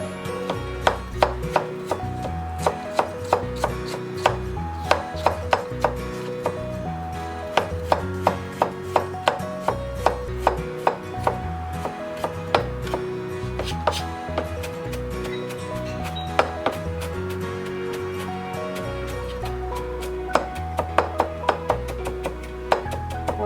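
Ginger and garlic being finely minced with a knife on a cutting board for beef varutharacha curry: a steady, rapid run of close, crisp blade taps that continues without pause.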